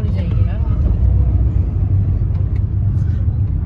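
A car's engine gives a steady, loud, close rumble as it moves through a crowd, with people talking over it.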